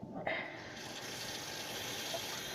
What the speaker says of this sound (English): I gotta rinse my silverware here.